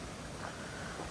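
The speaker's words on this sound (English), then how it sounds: "You can hear the wind." Wind gusting along the Dandenong Creek Trail on a summer walk in Melbourne, a steady broadband rush without pauses, close to the microphone and filling the short stretch with no voices.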